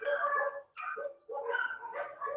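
Dogs bark and yelp in several bursts at night, fairly close and clear, one rising whine among the barks, with no talk over them.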